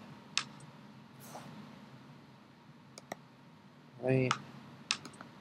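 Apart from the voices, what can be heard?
typing on a computer keyboard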